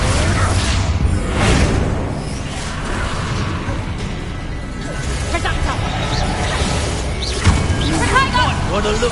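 Expulso spell explosions in Hogwarts Legacy: bursts, whooshes and crashing booms layered over dense, continuous game sound, with a sharper blast near the end.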